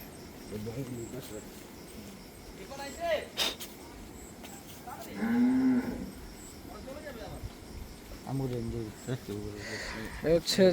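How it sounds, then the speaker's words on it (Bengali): Cows moo at a livestock market where cattle are sold for Qurbani, including middle-sized animals, with a few drawn-out calls at moderate distance and people talking throughout. "গরু দেখাচ্ছি আপনাদেরকে এখানে মোটামুটি আছে গরু ভালোই"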